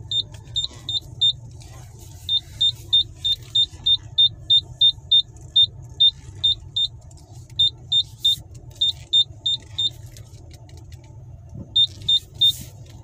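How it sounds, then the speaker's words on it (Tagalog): A car reverses into a spot at a house in a village with a steady, regular reversing beep pulsing about twice a second and a low engine hum underneath, with short gaps between runs of beeps. "nire-reverse ko na para diretso na pag-aalis ako mamaya"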